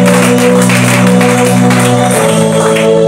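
Church congregation applauding during a Sunday sermon, steady dense clapping over sustained organ or keyboard chords, continuous and loud for the whole stretch.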